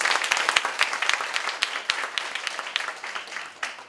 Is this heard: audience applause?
yes